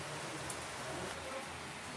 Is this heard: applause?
no